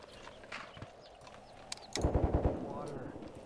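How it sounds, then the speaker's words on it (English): Gunfire in the tank combat game Tank Warfare Tunisia 1943: after quiet rumbling, a quick burst of five or six thudding shots lands, then a lingering low roar. "That's shooting."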